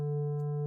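A synthesized reference tone plays a single sustained musical note, steady and clear with even overtones, for under a second.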